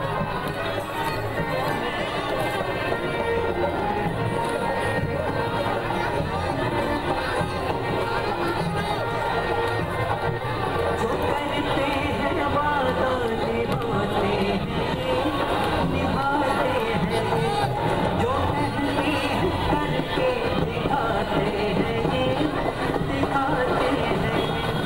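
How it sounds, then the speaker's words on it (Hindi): A large, dense crowd gathered for a Congress road show in Morena fills the scene with steady, loud chatter and shouting that holds level throughout, with no break or quiet moment. "तो भीड़ बहुत ज्यादा जुटी है रोड शो में"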